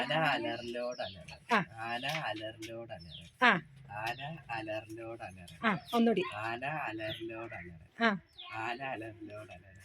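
Children's voices imitate an elephant trumpeting in a playful home game, with a run of rising, strained vocal blasts and squeals mixed into close, lively chatter.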